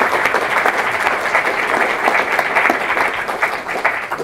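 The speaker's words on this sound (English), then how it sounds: "So once again, a round of applause for our..." A live audience at a public talk on intelligent robotics claps in sustained, dense applause, loud and close, with no voices over it.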